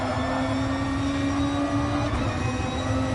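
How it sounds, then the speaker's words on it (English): Volkswagen Beetle enduro race car engines droning steadily in France, a continuous loud mechanical roar with a sustained hum and no breaks, heard from a moderate distance with no voices. "being woken up by the beastly sounds of these bugs and their super powerful engines"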